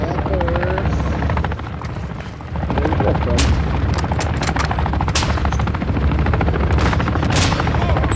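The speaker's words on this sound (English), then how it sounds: "Chopper coming." A helicopter arrives in a multiplayer shooter video game, its steady rotor roar loud and constant throughout, mixed with sharp gunfire bursts and occasional booms.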